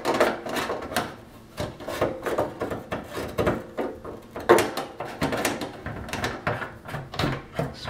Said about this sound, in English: Spin the nut up here.